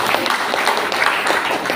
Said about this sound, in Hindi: इस जड़ी के लिए जोरदार ताली होना चाहिए।